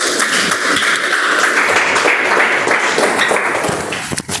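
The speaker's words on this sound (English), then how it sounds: "Can we have a round of applause for him?" An audience at a community meeting gives a round of dense, steady applause, loud and close throughout, with a brief dip near the end.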